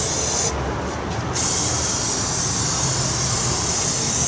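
High-pressure brake cleaner sprays from an aerosol can in a loud, continuous close hiss, broken briefly by one short gap.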